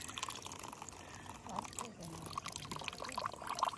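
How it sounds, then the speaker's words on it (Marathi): Water is poured into a vessel to make lemon sherbet outdoors on a fort trek: a continuous splashing, trickling stream close by with faint background voices. "ठीक आहे अभी इसमें हम पाणी डालेंगे"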